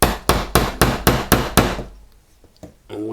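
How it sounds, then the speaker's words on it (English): A brass hammer drives a punch to push out a roll pin on an AR-15 gas block, seven sharp evenly spaced metallic strikes close up, followed by quieter faint handling taps. "Again, using a brass hammer."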